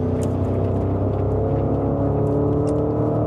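A Porsche Cayenne SUV accelerates on a track, its engine a loud, continuous close-up drone with a rising, layered hum and no voices.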